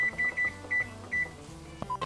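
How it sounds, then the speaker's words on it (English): A kitchen timer set for four minutes while hand-cut noodles cook, giving a short run of evenly spaced electronic beeps, up close and clear, ending in a brief jumble of clatter. "4-minute timer."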